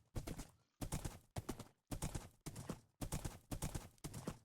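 A horse's hooves clip-clop in a video game, giving about eight evenly spaced, crisp beats at a steady walking rhythm, loud and close, with no talk over them.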